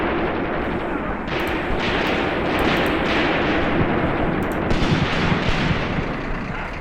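Sustained battlefield gunfire and artillery from the Graviteam Tactics: Mius Front war game, a dense, continuous roar of shots and distant booms with no clear gaps, loud throughout.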